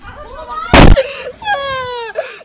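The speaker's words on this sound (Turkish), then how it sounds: "evde bulunan tüp bomba gibi patladı" A gas cylinder explodes in a house fire as firefighters work: a single loud, sharp blast bursts out amid excited voices and yelps, then shouting continues after it.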